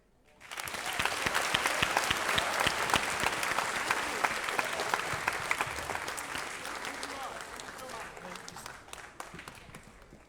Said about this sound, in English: can we have another round of applause for Dr. Coffey